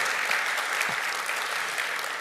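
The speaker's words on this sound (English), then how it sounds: "give all of yourselves a round of applause for being out here and standing in solidarity" Steady applause from an outdoor crowd at a community press conference on combating antisemitism, continuous dense clapping at a moderate, fairly distant level with no pauses.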